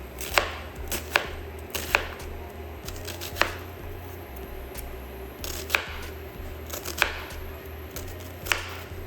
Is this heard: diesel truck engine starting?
no